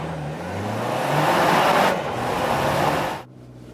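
A Lexus RX hybrid SUV accelerates hard from a standstill toward 100 km/h, a loud, steady engine and road roar heard from inside that swells and then drops off abruptly near the end.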